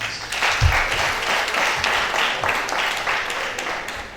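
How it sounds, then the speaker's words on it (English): An audience at a university faculty science lecture breaks into applause, a dense, loud wash of clapping that carries on steadily throughout without fading. "Another round of applause,"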